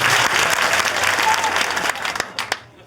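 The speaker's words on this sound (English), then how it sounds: "Nick, they are going to clap for as long as the ball stays balanced whilst it's on the end of your finger." An audience claps continuously while a spinning ball is balanced on a fingertip during a science demonstration. The loud, steady applause breaks into a few scattered claps before stopping.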